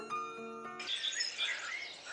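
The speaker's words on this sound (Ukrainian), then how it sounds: "Хто робить такі звуки? Так, правильно, це пташки." Birds chirping and singing, with bright high whistled notes overlapping in a lively chorus, fairly close and steady, no voices.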